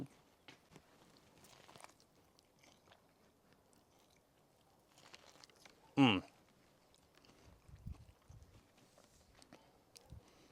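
Grilled Mexican street corn (elote) is bitten and chewed close up, with one sharp crunchy bite followed by soft, faint chewing and small clicks in an otherwise quiet setting.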